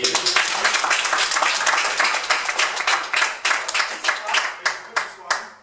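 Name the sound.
audience applause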